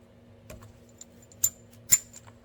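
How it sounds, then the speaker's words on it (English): Diagonal cutters snipping into a braided stainless steel hose sheath, giving a few sharp metallic clicks and snaps, the two loudest near the end, close and quiet with no talking. "you want to take a pair of dikes, also known as diagonal cutters, and I'm going to make a cut in here"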